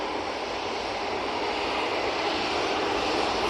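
An easyJet airliner departs on runway 23 left at Manchester Airport, producing a loud, continuous, broadband jet roar that holds steady from start to finish with no talk over it.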